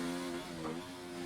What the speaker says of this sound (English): we can hear both my voice and the in-game audio engine sounds